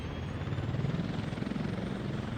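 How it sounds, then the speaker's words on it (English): Helicopter in the Workers & Resources video game, delivering workers; a steady, fairly faint rotor drone holds evenly throughout with no talk over it. "That was a helicopter that delivered them, I think"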